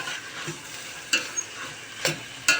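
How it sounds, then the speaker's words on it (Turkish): Lentil dish being sautéed in a pan on a home stove, a steady sizzle with a few sharp stirring scrapes and clacks spaced out across the sound, close and moderately loud. "Ve kavuruyorum"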